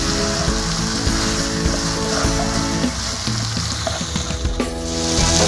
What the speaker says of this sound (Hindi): अब हम इसे 2 से 3 मिनट तक फ्राई करेंगे